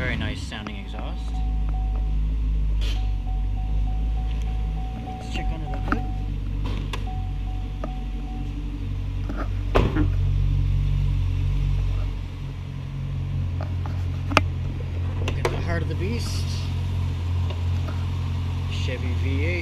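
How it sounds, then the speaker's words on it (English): A 2010 Chevy Camaro SS V8 runs at a steady, low idle rumble close by, with someone talking over the engine throughout. "Great sounding, great looking car. That's a 2010 Chevy Camaro SS."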